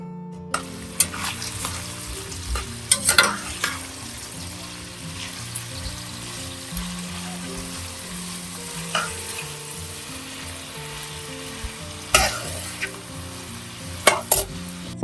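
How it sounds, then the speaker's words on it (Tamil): Onions sauté with biryani spices in a pan, a continuous sizzle punctuated by sharp spatula knocks and scrapes, close and clear over faint background music. "இதில் ஆஸ் யூஷுவல் பிரியாணி ஸ்பைசஸ்லாம் போட்டு வெங்காயத்தை போட்டு நல்லா வதக்கிக்கணுங்க"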